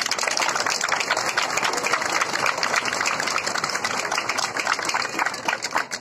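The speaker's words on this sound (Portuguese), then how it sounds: "Eu quero nesse momento uma salva de palmas para a Zé e para a equipe." A crowd claps outdoors at a September 7 marching band parade in Serra do Ramalho, Bahia, with fairly loud, uneven applause mixed with a steady mechanical hum and background bustle.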